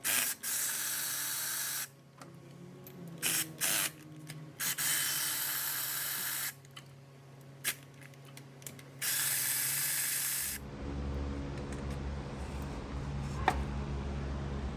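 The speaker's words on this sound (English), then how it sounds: "Oh, brake clean action." Bursts of brake cleaner spray hiss in short and longer blasts, close and fairly loud, during water pump work on a 2001 Honda Civic LX 1.7 L, followed by a lower mechanical hum.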